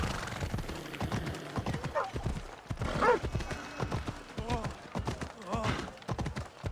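A horse in Assassin's Creed Odyssey trots with steady clip-clop hoofbeats at moderate volume, and a few whinnies or breathy snorts break in between the footfalls.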